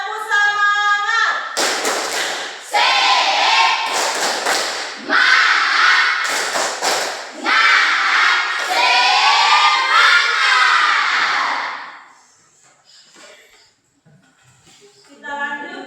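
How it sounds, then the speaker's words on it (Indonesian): A school class does a rhythmic spirit clap, with bursts of clapping and thumps alongside children's loud chanting voices in the room, then a sudden drop to near quiet with a faint voice at the end. "Tepuk semangat."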